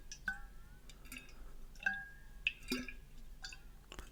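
A metal drinking water bottle tapped a few times, each close, quiet knock ringing briefly with a bright metallic tone, spaced irregularly over a faint background hiss.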